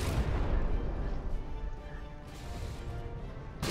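Shells strike a warship's hull in the naval combat game From the Depths, a dense, continuous rumble of impacts and booming hits that stays loud throughout with a fresh burst at the end.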